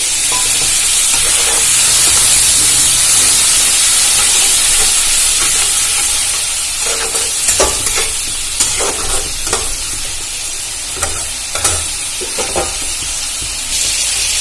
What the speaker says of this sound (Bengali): আরও ভালো করে নাড়াচাড়া করে ভেজে নেব দিয়ে দেবো অল্প একটু জল